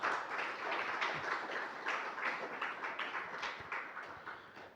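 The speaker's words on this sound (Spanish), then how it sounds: "Denle un fuerte aplauso al Señor fiel." A church congregation applauding: dense, sustained clapping from many hands that swells in waves and fades slightly toward the end, with no voices on top.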